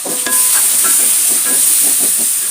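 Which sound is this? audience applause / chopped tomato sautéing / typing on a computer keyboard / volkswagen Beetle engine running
chopped tomato sautéing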